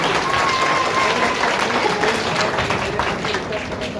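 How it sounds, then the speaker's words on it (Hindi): Large gathering applauding to thank a doctor at a World Memon Organisation event, a broad sustained wash of clapping from a big crowd with faint voices mixed in. "एक जोरदार ताली देकर डॉक्टर साहब का शुक्रिया करते हैं"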